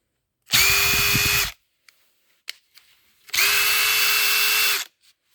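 Makita XDT13 cordless impact driver run in two bursts of about a second each, a loud high whine with a rattling hammer beneath it, with a short quiet gap and a few small clicks between.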